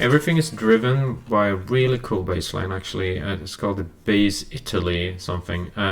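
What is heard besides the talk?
None of the usual background noises is heard.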